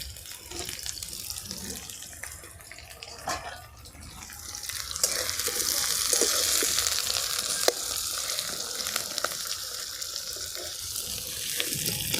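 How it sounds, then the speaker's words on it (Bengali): Chopped onions fry in hot oil for a mutton curry, a steady loud sizzle with occasional stirring scrapes, close and continuous with no voices. "পেঁয়াজটিকে লাল করে ভেজে নিতে হবে।"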